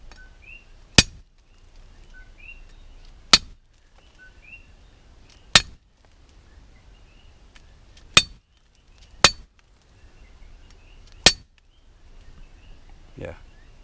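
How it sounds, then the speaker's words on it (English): A steel Imacasa panga machete strikes a rock six times in sharp, loud metallic clinks spaced a second or two apart, with quiet outdoor background between blows. "Now I'm gonna hit it with the machete"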